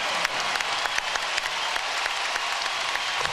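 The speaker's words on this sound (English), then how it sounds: "he's getting a standing ovation here in Dallas" Basketball arena crowd in Dallas gives a standing ovation, a broad, sustained wash of clapping with sharp individual claps popping out, steady and fairly loud without voices on top.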